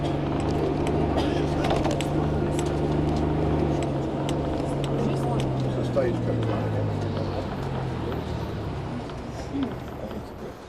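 Interior of a London Routemaster bus, RML 2324 fitted with an Iveco engine, on a northbound ride in 2005: a steady low engine drone with road rumble that varies in pitch, busy cabin noise and chatter around it throughout.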